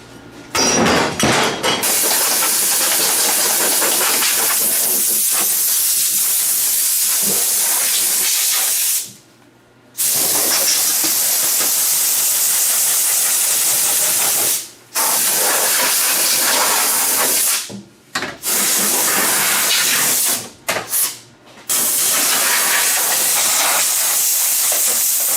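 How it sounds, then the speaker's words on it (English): Compressed air from an air compressor blasts loudly inside a tractor cab fouled with mouse droppings, long hissing bursts broken by a few brief pauses as the nozzle is released. "I think we're going to have to get the air compressor in here."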